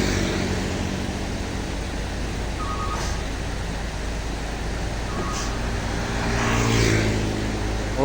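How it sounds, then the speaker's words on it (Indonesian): A large vehicle idling and moving on a forest road near Pujon, Malang, as a steady engine rumble that swells toward the end, heard from nearby outdoors. "Ini ada mobil besar yang siap berangkat."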